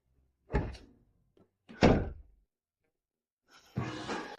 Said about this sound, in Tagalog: Isara mo na lang yung pinto.